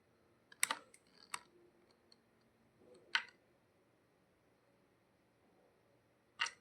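Computer keyboard keys pressed while using Tally Prime accounting software: a few scattered clicky keystrokes with quiet gaps between them, close and fairly soft, no voice heard.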